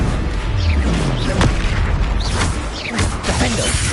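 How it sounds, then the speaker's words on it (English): In Hogwarts Legacy, an Expelliarmus spell is cast amid a dense, loud, continuous roar of magical combat effects, with whooshing sweeps and booming impacts throughout. "Expelliarmus!"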